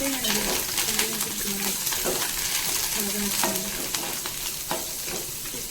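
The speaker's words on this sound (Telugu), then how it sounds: "తాలింపు" Onion, curry leaves, cumin and lentils fry and sizzle in hot oil for a chutney tempering, a steady crackle close by with occasional spoon scrapes and faint talk.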